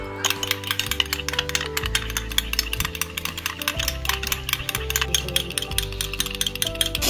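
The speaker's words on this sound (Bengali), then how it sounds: "মাছে দেওয়ার জন্য দইটাকে ভালো করে ফেটিয়ে নেব।" Spoon or whisk beating sour yogurt in a metal bowl for Katla fish kalia, with rapid, steady clinking strokes over a loud backing of sustained music tones, and no talking.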